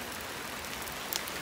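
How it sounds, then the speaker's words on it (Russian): Rain falling outdoors on an overcast day, a steady soft broadband patter heard fairly faint throughout, with one brief brighter splash or drip near the end. "Сегодня у нас идет дождь, пасмурно."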